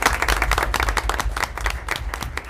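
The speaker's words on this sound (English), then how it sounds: "All right, another round of applause." A room of people at a city council meeting gives a round of applause, a loud, busy wash of many hands clapping close by for a couple of seconds.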